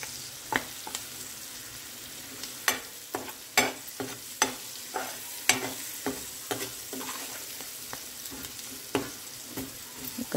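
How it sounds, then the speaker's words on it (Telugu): Green chillies and onions fry in a pan under a soft steady sizzle, broken by sharp intermittent pops and spoon clicks spaced a second or so apart, close and moderately quiet. "మిర్చి మాత్రం ఇగో ఇట్లా ఫ్రై కావాలి."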